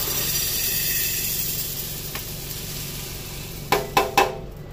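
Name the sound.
moong beans being dry-roasted in a pan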